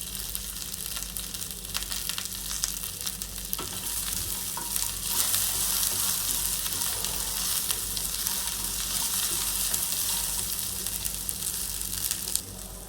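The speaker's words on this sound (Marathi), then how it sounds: "फ्राय करून घ्यायचं तेलामध्ये" Sliced okra fries in oil with a little salt, giving a dense, continuous sizzle that stays steady and close throughout, no voices present.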